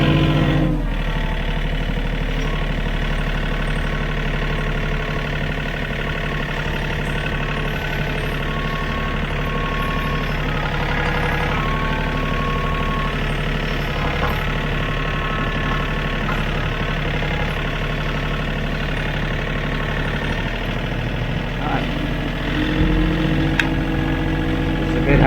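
A TYM tractor with a loader idles steadily nearby, giving a constant low diesel rumble with a faint knocking texture for the whole stretch while doing odd jobs around a property.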